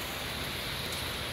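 Rain falls outside as a steady, dense hiss with no breaks and no voices.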